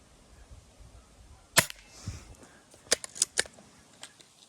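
A Hatsan 25 air pistol fires cap ammunition at a target 10 metres away, giving a string of sharp, close cracks: one early pop, then a quick cluster of three or four snaps and a fainter one at the end.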